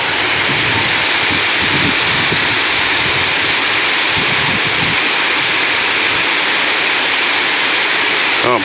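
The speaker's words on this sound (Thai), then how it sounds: "คือน้ำตกขุนกรนะครับ ที่เรามาเที่ยวชมวันนี้นะครับ" Khun Korn Waterfall in Chiang Rai, Thailand, a single-tier forest waterfall about seventy metres high, roars continuously, a dense, loud rush of falling water that stays constant throughout.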